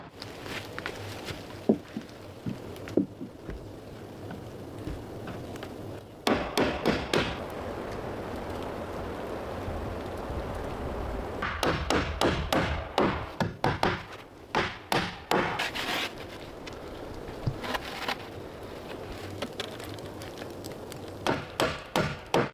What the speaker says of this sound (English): Installation of long wooden planks on top of the waterproof sheet has begun